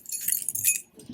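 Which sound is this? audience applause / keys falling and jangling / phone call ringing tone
keys falling and jangling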